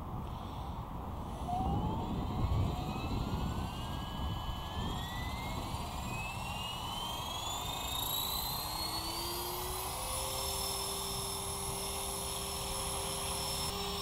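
Whining, rising rotor and motor pitch of a Blade 330s radio-controlled helicopter hovering nearby, its steady buzz shifting slightly as it holds position.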